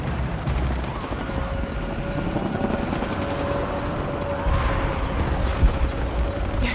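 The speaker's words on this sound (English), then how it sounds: "More helicopters." Helicopters in the video game Shadow of the Tomb Raider, a dense, steady rotor and engine rumble with a sustained tone. It runs continuously under bursts of clattering gunfire-like noise, busy and loud throughout.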